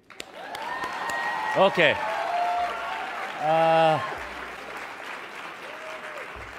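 Audience applause at the International Emmy Awards ceremony in New York, a steady broad wash of clapping running under a speaker's brief nervous remarks at the podium, with a short laugh-like vocal burst in the middle.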